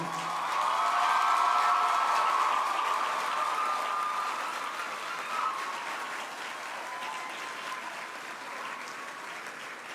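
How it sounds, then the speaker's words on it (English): An audience at a university graduation ceremony gives a sustained, dense round of applause that starts loud and slowly tapers off over ten seconds. "give your parents, family, and friends a rousing round of applause"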